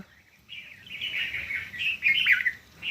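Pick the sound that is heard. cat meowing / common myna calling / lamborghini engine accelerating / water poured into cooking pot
common myna calling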